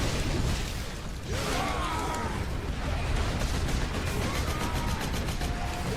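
Gunfire in a shooting video game, rapid bursts of shots in a dense, busy mix, loud and close, over a continuous rumble with brief sweeping effects.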